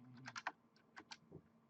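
Short bursts of keystrokes on a computer keyboard, a few quick clicks then a pause and a couple more, close and fairly quiet with no talking.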